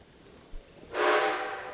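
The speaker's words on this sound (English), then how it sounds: "You want to sound the whistle? Oh, yes. Just pull at the cord above my head." A steam locomotive whistle in the Red Dead Redemption video game, sounded by pulling a cord, sings out as a single sustained, fairly loud tone after a brief soft knock, holding steady without talk.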